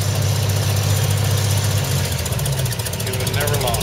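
An International 1070 Hydro tractor engine at an antique tractor pull at a county machinery show, a loud, steady, rumbling engine drone with a knocking pulse, while an announcer talks over it.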